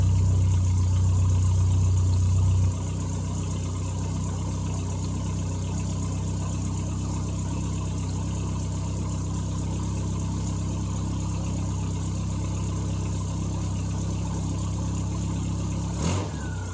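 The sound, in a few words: British classic car engine started with choke, idling and revving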